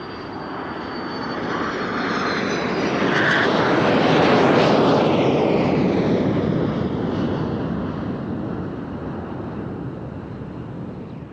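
Lead jets from several national aerobatic teams fly past together in joint formation at an airshow in Turkey, a loud roar that swells as they approach, peaks overhead and fades slowly into the distance.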